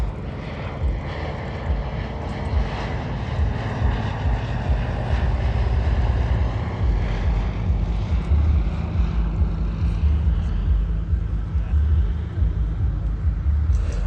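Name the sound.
Fairey Swordfish biplane flying at an air show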